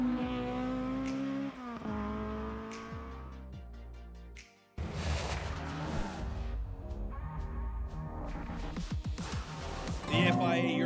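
Historic rally cars race at a round of the FIA European Historic Rally Championship in Spain, with loud engines revving and shifting through gears, one car passing close before another roars in hard and keeps accelerating.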